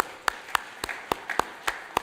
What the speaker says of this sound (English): Let's give them a round of applause being here, y'all.